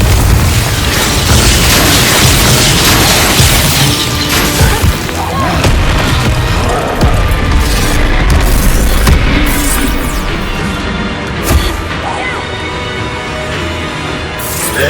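A fiery Confringo spell blast in the game Hogwarts Legacy, heard as a sustained barrage of loud booms, crashes and bursting pops layered with battle voices, staying dense and intense throughout.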